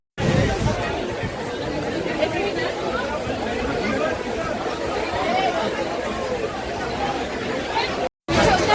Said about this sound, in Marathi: ही आहे ठाण्याची गर्दी.